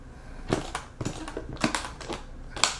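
The latches on a trumpet case snap open one after another, giving several sharp, close clicks and clacks with faint handling noise between them.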